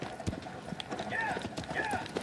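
Horse hooves clip-clop in the Shadow of the Colossus video game, a steady trotting rhythm heard close over soft game ambience while someone talks over it.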